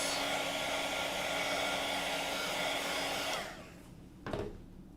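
A heat dryer blows steadily at close range while speed drying a stamped card, a loud continuous whooshing roar that cuts off after about three and a half seconds, leaving quiet handling sounds.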